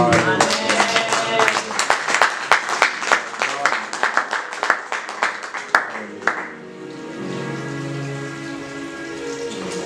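A church congregation breaks into loud, dense applause for about six seconds, then it drops away, leaving softer voices and background sound.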